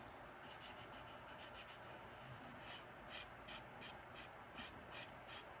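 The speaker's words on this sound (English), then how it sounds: "Sand the outside of this." Someone sands the outside edge of a leather trifold wallet, giving a soft, close, scratchy rubbing that repeats in short back-and-forth strokes, quiet and steady.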